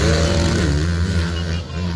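Motorcycle engine revving hard during a street drag race between a large bike and a 150cc machine, a loud, sustained droning roar with shifting pitch and faint crowd noise.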